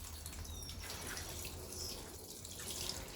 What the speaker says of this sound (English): just put them some water in.